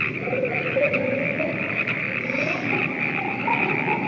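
Frogs croak steadily and loudly in the video game Slice 'N Dice, a dense, continuous chorus of ribbiting calls over an unbroken rumble, with no voices.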